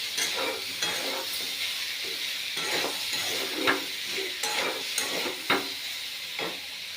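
Spices with salt and turmeric sizzling in a pan, a continuous frying hiss with repeated spatula scrapes and clinks as it is stirred.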